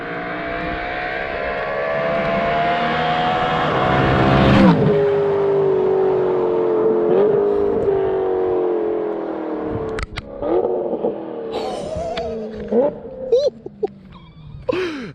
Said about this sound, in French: on parle bien d'une suppression de silencieux, c'est-à-dire que tout ce qui est cata, pré-cata, toute la série de bazar qu'ils te mettent, elle est toujours là quoi